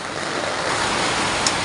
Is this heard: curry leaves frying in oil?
no